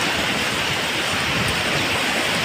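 Ocean waves at a beach on a misty morning, a continuous hissing wash of surf, moderately loud and even, with no voices.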